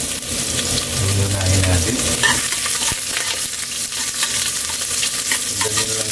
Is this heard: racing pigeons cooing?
no